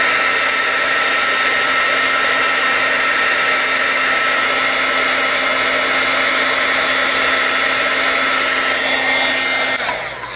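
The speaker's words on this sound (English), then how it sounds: "it actually goes fairly quickly once the gun heats up to start embossing each of these pumpkins" A heat gun blows steadily to melt embossing powder on paper pumpkins, a loud constant fan-and-heater whoosh that runs unbroken before cutting off at the end.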